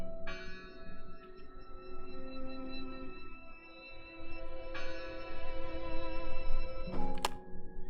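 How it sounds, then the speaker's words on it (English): A church bell tolls in the video game Draugen, sounding several rich, ringing strokes that sustain and overlap over a low ambient rumble, with fresh strikes arriving at intervals. "I heard the bell."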